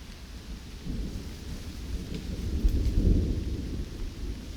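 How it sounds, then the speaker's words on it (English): Steady rain falls while low thunder rumbles and swells in the background, peaking midway before easing off. "And along with it, I can also hear rain."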